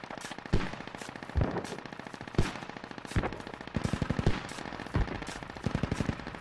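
Rapid bursts of automatic gunfire in the military shooter Squad, sharp repeated volleys with short gaps, some bursts louder and closer than others, with no talking over them.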